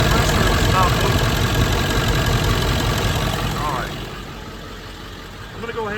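A car engine idling with its A/C compressor running, a close, steady rumble that drops in level toward the end as the engine is shut off, with voices faintly underneath.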